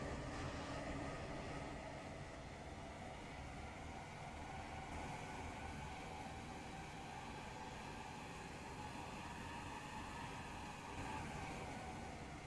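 A new SCR Beta train in a railway video game: a faint, steady running rumble and hiss of the train under way, even throughout with no voices.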